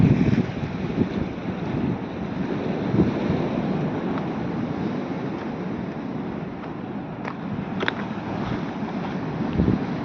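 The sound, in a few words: boat engine starting with waves and wind at sea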